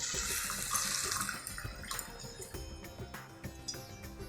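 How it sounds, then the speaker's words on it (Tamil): Water pours steadily into a pot of rice for corn methi pulao, a close, continuous splashing trickle heard alone. "இப்போ இதில் வாட்டர் விட்டுடலாம்."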